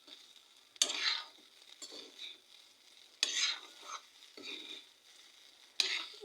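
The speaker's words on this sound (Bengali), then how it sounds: "দিয়ে একটু ভালোভাবে নেড়ে নেবে এখন" A spoon stirs biryani masala with garam masala in a frying pan, giving three or four distinct scraping, rustling strokes with a soft sizzle in between, near and moderately quiet, with no voices.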